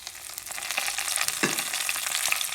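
Curry leaves and dried red chillies dropped into hot oil for vendhaya kulambu, giving a brief bright sizzle with a sharp crackling burst partway through.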